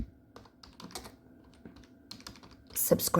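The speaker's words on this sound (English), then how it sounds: "you want to go to Google and then you want to type in subscribe" Keystrokes on a computer keyboard during a web search, a run of soft scattered taps that grows into a louder, faster burst at the end.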